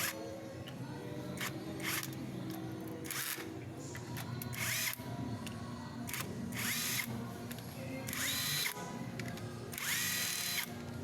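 A power drill whirs in repeated short bursts, loosening the three clutch bolts on a Honda Supremo motorcycle, with the ratcheting clicks of hand tools between bursts and a steady hum in the background.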